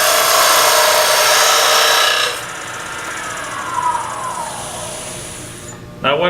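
A parting tool cuts into wood spinning on a lathe. A loud, rough scraping rasp fills the first couple of seconds, then eases to a quieter hiss as the cut continues.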